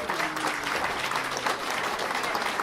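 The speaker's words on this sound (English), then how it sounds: "Give a round of applause if you know somebody like that" Gala audience applause breaks out during a keynote talk, a thick, steady wash of many hands clapping at close range, continuous and fairly loud throughout.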